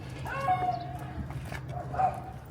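A puppy in a parking lot gives a few yelping, whining barks, two bursts close to the mic over a low steady hum.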